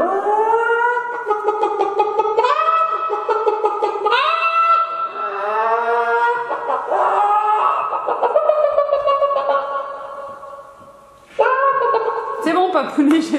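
A voice imitates a hen's clucking and squawking, loud and close in a series of wavering, rising calls with brief pauses.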